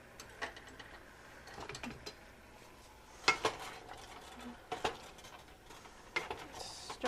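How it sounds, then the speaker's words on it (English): Beets tip into a pan and get stirred for sweet tart glazed beets. A few separate clinks and scrapes of utensil on cookware come through, quiet and close, with soft kitchen background between them. "Just gonna dump the beets in."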